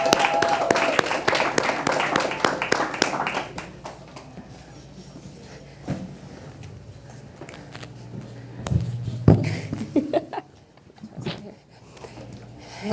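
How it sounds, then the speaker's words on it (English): Audience clapping welcomes panelists Chris and Zayla onto a stage, a dense burst of applause that thins out after a few seconds into scattered claps, shuffling and nearby voices. "Go ahead and clap it up for them"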